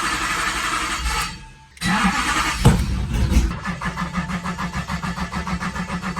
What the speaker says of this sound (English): I've had some trouble starting the car.